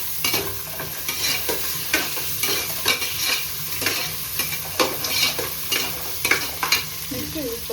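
Onions and spices for mutton sambar fry in hot oil, a bright sizzle broken by repeated scraping stirs at a regular rhythm, close and loud with no voices.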